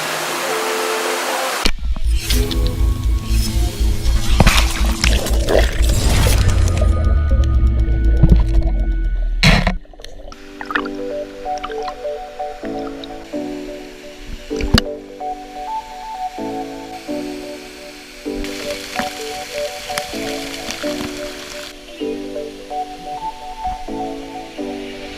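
Kuang Si Falls near Luang Prabang roars as a loud, continuous rush of falling water for about ten seconds, then music with rhythmic tones takes over.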